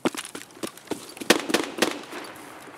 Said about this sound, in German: Gut, nicht alle Schüsse gehen auf mich.